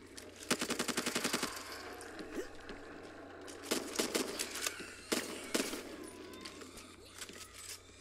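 Assault rifle fire in the Back 4 Blood zombie shooter, a rapid automatic burst near the start followed by several shorter bursts and single cracks, loud against a low game backdrop.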